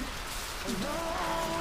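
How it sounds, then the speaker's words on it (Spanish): Steady rain pours down in the Costa Rican wilderness, a close, continuous hiss of drops on surfaces with no talking, and a faint tonal call rising briefly above it midway. "ya se vino la lluvia"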